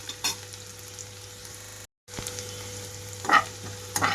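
Onions fry on a high flame for egg fried rice, making a steady moderate sizzle with occasional crackles and a short silent gap partway through.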